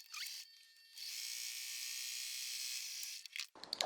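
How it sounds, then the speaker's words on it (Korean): A steady high-pitched mechanical whir runs continuously for a few seconds, then cuts off with a brief clatter at the end, like a small sewing machine motor stitching. "재봉틀을 하겠습니다."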